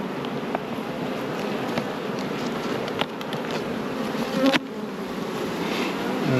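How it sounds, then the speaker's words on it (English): Honey bees hum steadily in the top super of a beehive, a dense continuous buzz with a few closer individual bees passing by, and no talking. "The bees all in this top super."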